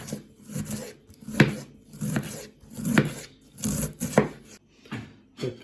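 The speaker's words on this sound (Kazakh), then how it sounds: "Так, капустамыз турап болдық." A knife chops cabbage on a cutting board in steady, crisp strokes, about eight dull thuds with scraping between them, close and alone with no talk.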